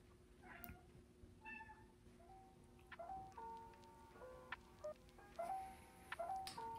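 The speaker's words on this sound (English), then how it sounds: "there's a cat over here." A cat meows several times nearby, short rising calls that grow more frequent and louder toward the end, over a quiet room hum.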